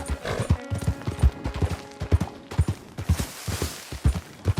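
Horse hooves clip-clop at a steady trot in the video game Red Dead Redemption 2, a regular close rhythm of soft thuds with a faint snort early on.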